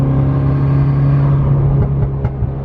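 Idling hum and rushing air from an oil-burning MK6 Golf R whose turbo is not spooling or building boost, a steady close rumble with faint airy whooshes and small clicks, no voices.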